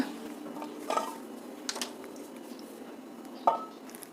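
Steamed dough made from leftover rice being lifted out of a steamer, with a few faint metallic clinks and pot clatters, quiet and close, scattered across a hushed kitchen background.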